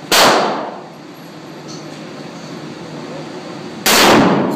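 Two sharp, loud revolver gunshots at a shooting range, each ringing off a metal target with a bright clang, about four seconds apart, with a steady hum of background noise between them.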